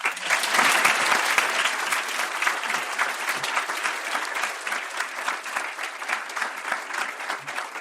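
An audience at a lecture in Boston applauds to welcome Noam Chomsky, with sustained, dense clapping from a large crowd that holds steady and fades only slightly.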